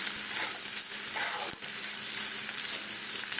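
Green chillies frying in hot oil with asafoetida, a steady loud sizzle that holds throughout, with faint stirring scrapes.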